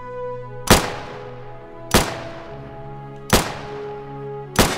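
Four sharp, evenly spaced gunshots fire at targets on a military boot camp range in the Unturned game, each crack loud and close with a ringing decay.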